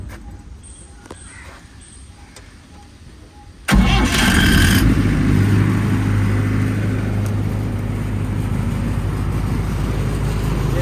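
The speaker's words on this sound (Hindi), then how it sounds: "आइए मैं इसे आपको स्टार्ट करके भी दिखा देता हूँ।" A Cummins diesel generator cranks and fires up, then settles into a loud, steady, close-up engine drone with a rumbling low hum; quieter background noise and distant bird calls come before the start.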